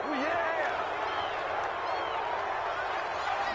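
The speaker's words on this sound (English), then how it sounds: "this crowd does not like that call" A simulated stadium crowd in the Madden 21 football video game reacts to a penalty call with a steady, dense roar of voices that holds loud throughout.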